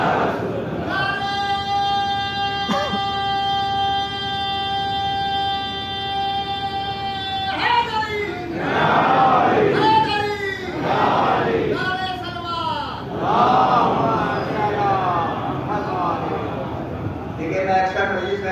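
A large crowd shouts rhythmic religious chants in unison, including Takbir, loud and repeated in waves, following a sustained droning tone at the start, at a Muslim memorial majlis.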